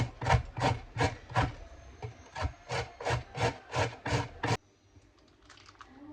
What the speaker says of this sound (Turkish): Evet şimdi havucumu rendeliyorum.